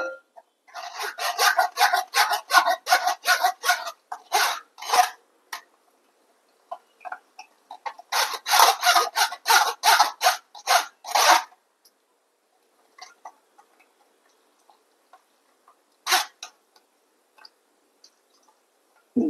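Ground mango pulp is strained for mango soup with bursts of rapid, close scraping and rasping strokes in rhythmic runs, separated by pauses and a few isolated scrapes near the end.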